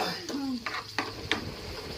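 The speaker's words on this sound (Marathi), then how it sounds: "अद्रक, लसूण आणि मिरच्या ह्या वाटून घेतल्या आहेत आणि हे आपल्याला तेल सुटेपर्यंत पूर्ण भाजून घ्यायचे" A paste of ground ginger, garlic and green chilies fries in oil for egg masala. It gives a steady sizzle with several sharp spoon scrapes and clinks against the pan, and a voice is briefly heard near the start.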